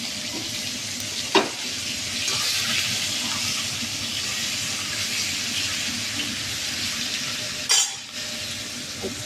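Hilsa fish heads rubbed with salt and turmeric fry in oil in a wok, making a moderate continuous sizzle broken by two sharp clatters or scrapes, one near the start and one near the end, with no voices.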